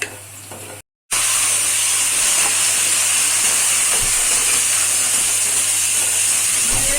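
Onions frying in a pan and being stirred toward golden brown, a loud continuous hiss and sizzle after a brief silent gap, with occasional soft stirring knocks close by.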